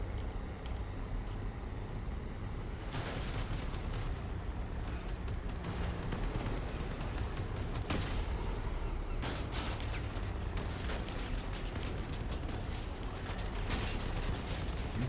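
Turret gunfire in the vehicle-combat game Crossout: dense, rattling bursts of shots and sharp impacts layered over a constant low engine rumble, loud throughout.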